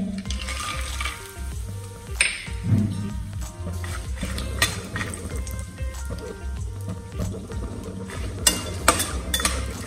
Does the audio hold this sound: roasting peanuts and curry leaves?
yes